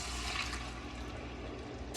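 Water rinsed around a tomato can pours into a pot, a steady, close splashing gush that continues throughout.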